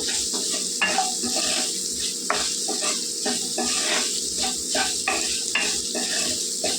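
Carrot stir-fry with turmeric sizzling in a pan while being mixed, a loud steady hiss with regular scraping strokes of a spatula across the metal, no voices.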